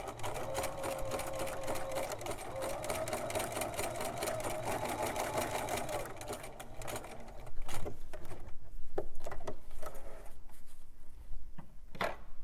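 A sewing machine zigzag stitching across a necktie label for a bracelet, a fast steady close mechanical whirr with rapid needle chatter that runs throughout, shifting pace slightly partway through.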